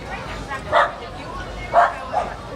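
Dogs bark at a downtown street parade during the McMinnville UFO Festival, with three short yips spaced over a couple of seconds over steady crowd chatter and people talking.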